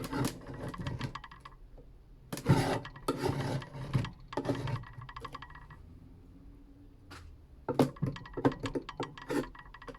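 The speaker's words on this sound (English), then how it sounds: "I'll just give it a good scrape." A metal hive tool scrapes beeswax and sticky propolis off a wooden beehive super in bursts of close, gritty strokes separated by quiet pauses.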